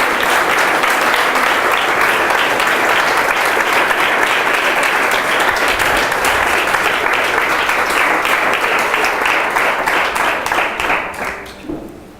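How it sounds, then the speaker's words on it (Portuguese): A church congregation applauds during a worship service, sustained loud dense clapping for about eleven seconds that fades out at the end. "Se é para Jesus, pode aplaudir."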